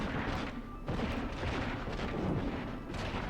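Explosion in the Champions of Norrath fantasy action game against orcs: a dense, continuous barrage of blasts and crackling bursts with no clear pauses, fairly loud throughout.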